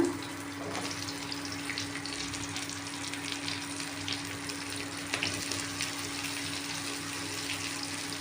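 Plain okra pieces fry in well-heated oil with a continuous crackling sizzle, steady and fairly close, with a faint background hum and no voices.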